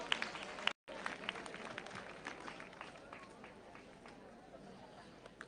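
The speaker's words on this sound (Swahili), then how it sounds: "Pigiani Kemaroli makofi" Crowd applause and clapping for Kemaroli school at a Gatundu South education event, a continuous rattle of many hands with chatter mixed in and a brief cut near the start.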